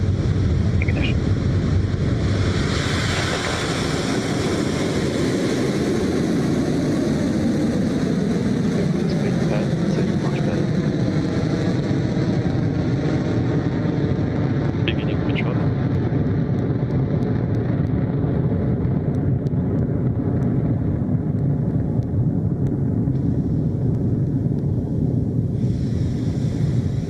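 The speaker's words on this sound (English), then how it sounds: "Electron has cleared the launch pad" Rocket Lab Electron rocket at launch: a loud, continuous engine roar holds steady for the whole stretch, a broad rumble with a slowly shifting tone as the rocket climbs away; no talking.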